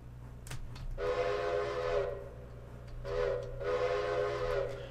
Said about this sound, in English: I like the sound of that whistle, though.